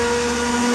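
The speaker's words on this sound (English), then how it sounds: "we're going to take an immersion blender and kind of break up all the chunks and stuff" An immersion blender whirs through hot slow-cooker apple butter with a steady, loud, even motor hum that does not change, and no talking.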